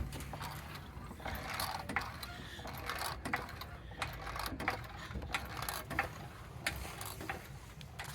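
A hydraulic floor jack is pumped under a 2015 Camaro SS in a garage, giving faint, repeated mechanical clicks and creaks in an irregular rhythm against low background noise.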